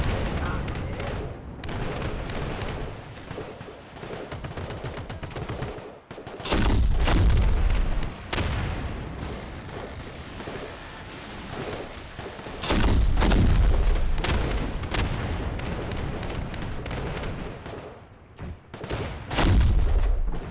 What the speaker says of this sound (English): It's nice to see these guns working.